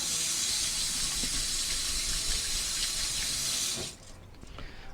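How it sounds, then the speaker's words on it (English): Hot tap water runs steadily from a faucet for rinsing, a broad constant hiss lasting several seconds before cutting off abruptly near the end, leaving a quiet room. "Rinse with really hot water."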